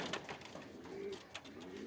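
Soft pigeon cooing comes through a busy outdoor background, with a few flutters and scattered noises around the birds.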